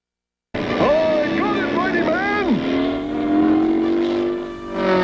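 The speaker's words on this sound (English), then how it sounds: "Maybe I should have a look and see if anything's wrong with this engine." A car engine revs close by in a few quick, rising and falling bursts, then settles into a steady, climbing drone before trailing off.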